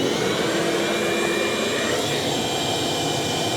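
A shop vacuum running steadily in a workshop, a constant loud whooshing roar with a high whine, close to the microphone and unbroken throughout.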